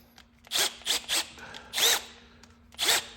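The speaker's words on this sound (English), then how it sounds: "So let's go ahead and we got our drill here. We don't have it on fast." Several short bursts of an electric drill at low speed biting into metal while mounting a hose reel, spaced irregularly with brief pauses, close and fairly loud.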